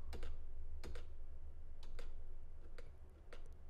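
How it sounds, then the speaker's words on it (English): Backspace presses on a computer keyboard tap out as distinct, sharp clicks, several spaced hits with a couple of quick doubles, close by over a low steady hum. "so I'm going to backspace a couple times"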